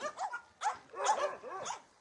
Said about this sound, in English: A big dog.